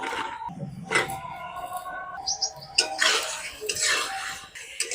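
Fried potatoes stirred into cooked masala in a pan, with a spoon clinking and scraping against metal in irregular strokes over a quiet background, close up and without speech.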